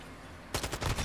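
A Kastov 74U rifle fires in Call of Duty MW2, a loud close burst of rapid automatic shots that starts abruptly after a brief lull of quiet game ambience.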